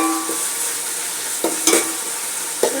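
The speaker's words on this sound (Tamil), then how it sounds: "இஞ்சி பூண்டு வந்து இந்த ஸ்டேஜுக்கு போனால் நம்ம கை விடாத கலக்கணும்." Ginger and garlic frying in a pan while being stirred constantly, a steady sizzle broken by a few sharp scrapes and clacks of the spoon against the pan.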